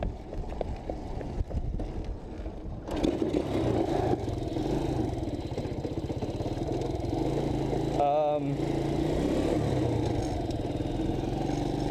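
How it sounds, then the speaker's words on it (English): A dead motorcycle engine, being jump-started, cranks and catches, then runs with a rough, steady idle and a brief rev, close by. "let's jump start the bike because it's dead"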